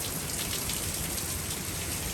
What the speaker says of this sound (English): Oh yes, we are finally getting some rain.